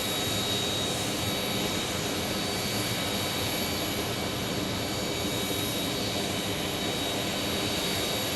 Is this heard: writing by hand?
no